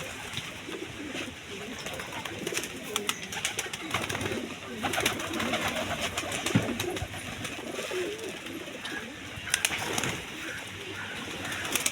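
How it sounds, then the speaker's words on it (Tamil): Pigeons coo steadily through a busy, noisy setting, with soft repeated cooing, occasional wing flutters and faint human voices mixed in the background. "இந்த புறா அந்த புறாக்கள் எல்லாமே வந்து மிதிச்சே கொன்றும் போல் அந்த மாதிரி பண்ணுது"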